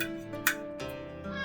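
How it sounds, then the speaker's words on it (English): A cat meows once or twice nearby, short and plaintive, over a quiet background. "I have a cat down here"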